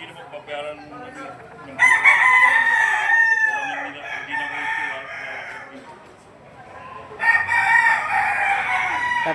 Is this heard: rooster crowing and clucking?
yes